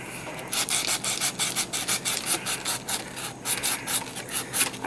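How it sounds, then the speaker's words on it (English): Steady rasping strokes of a hand file scraping paint from the grooves of a saber blade, a rhythmic back-and-forth rubbing repeated about a dozen times, close and fairly quiet with no talk. "I'm trying to file off the paint that is on these little grooves"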